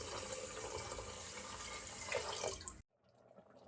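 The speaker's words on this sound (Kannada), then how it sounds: "ಇವಾಗ ಇದಕ್ಕೆ ನೀರು ಎಷ್ಟು ಬೇಕೋ ಅಷ್ಟು ಹಾಕೋಬೇಕು." Water pours steadily into a pot of washed rice and moong dal for pongal, a continuous close splashing that stops abruptly near the end, leaving a faint quiet tail.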